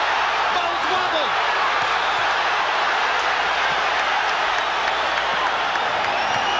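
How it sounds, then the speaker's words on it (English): A loud boxing arena crowd roars as Golota lands a combination on Riddick Bowe, a continuous, dense wall of cheering and shouting with faint commentary blended underneath. "Crowd lights up as Golota lands a combo."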